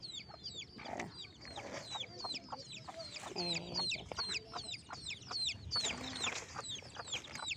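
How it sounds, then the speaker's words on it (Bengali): Chicks peep rapidly and repeatedly in high-pitched chirps, with a hen's low clucks mixed in now and then, close by. "মুরগির বাচ্চা তার মায়ের কাছে যাওয়ার জন্য মরিয়া হয়ে আছে"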